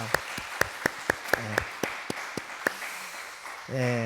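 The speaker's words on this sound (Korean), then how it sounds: "우리 큰 박수로 한번 축복할까요?" Sharp claps from a church congregation at an evening service ring out in a steady rhythm over a soft background, fading out as a voice begins speaking near the end.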